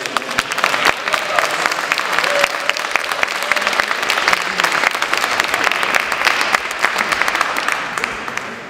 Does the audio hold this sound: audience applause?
yes